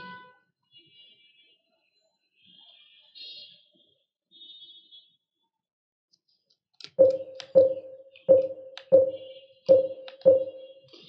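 Six sharp, evenly spaced mouse clicks on a PC while setting the display to full screen in Silent Hill 2 (original), loud and close after a stretch of faint quiet tones.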